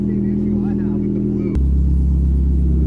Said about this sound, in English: I love how you cold started the car and opened the garage door